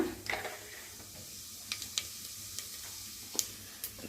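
Mustard seeds and cumin sizzle in oil in a hot pressure cooker on a stove, a quiet steady hiss punctuated by scattered sharp pops and crackles.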